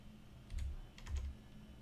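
Keyboard typing from a Forgecraft 2 Minecraft modded session, two short bursts of keystrokes, close and fairly soft, with a quiet pause between and no talking.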